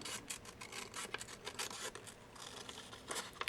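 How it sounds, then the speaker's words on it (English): Scissors cut out a paper stamping template in quiet, rapid rasping snips close by, repeated in a loose rhythm without any talking. "simply cut the template out"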